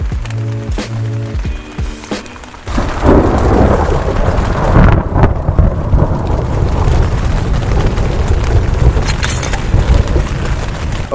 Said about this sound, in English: So much thunder,